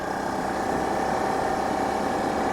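Honda CRF250 Rally motorcycle engine pulls uphill in fifth gear at low revs, a steady, even hum with faint vibration and wind, heard alone without talk.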